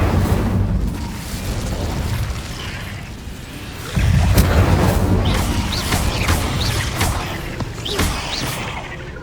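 Confringo fire spell explosion in the Hogwarts Legacy video game, a loud burst with a rumbling low boom, followed by crackling debris and sharp pops that trail off over several seconds.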